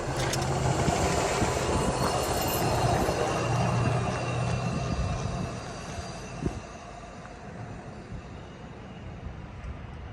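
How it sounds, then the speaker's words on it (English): A steady rumble of rail traffic with metallic wheel noise fills a station as an eastbound train approaches, then eases off and fades, leaving a quieter hiss and a single clunk. "the next train appeared from the distance, which was another eastbound train"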